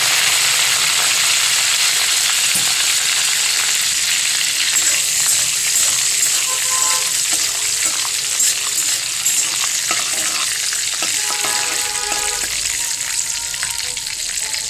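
Cumin seeds, a broken dried red chili and curry leaves fry in hot oil for a tempering, giving a continuous, close, crackling sizzle with faint scattered clicks throughout.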